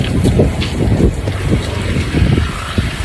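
Strong typhoon wind battering a house, a loud, continuous roaring gust that buffets the microphone with rumbling noise throughout.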